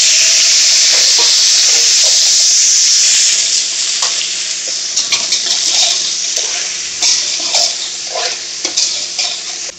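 Shredded cabbage dropped into hot oil with cumin and star anise, bursting into a loud hissing sizzle that settles into steady frying, broken by repeated clinks and scrapes of stirring.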